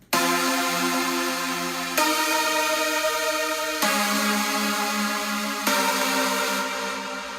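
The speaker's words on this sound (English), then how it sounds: "And then we've got another Spire that's just the super saw, the basic super saw that you hear." Bright, buzzy supersaw synth chords from Spire, four sustained stacks changing every two seconds, loud and wide with no voices.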